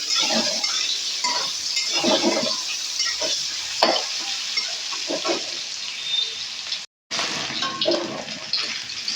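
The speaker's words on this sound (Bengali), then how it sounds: "ভালো করে একটু নেড়ে চেড়ে আলুগুলোকে ভেজে নেবো" Salted potatoes fry in a pan for a Bengali cabbage dish, giving a steady close sizzle with repeated stirring scrapes and one short silent gap.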